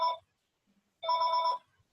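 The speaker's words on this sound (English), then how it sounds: "that's Danny's phone ringing" A telephone rings in two short electronic bursts, a brief ring followed by a longer one after a pause, with no talk in between.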